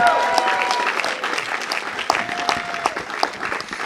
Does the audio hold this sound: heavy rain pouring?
no